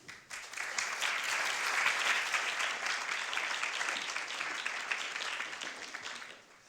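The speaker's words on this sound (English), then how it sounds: "Very warm thank you to Doreen and warm applause." Warm audience applause at a conference session, steady dense clapping that swells quickly, holds for several seconds, then fades out near the end.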